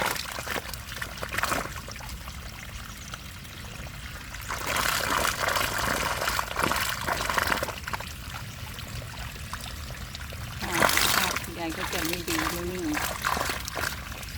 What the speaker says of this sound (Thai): น้ำไหลเนี่ยมันน้ำตกนี่